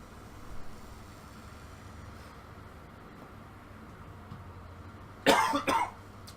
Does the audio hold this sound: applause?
no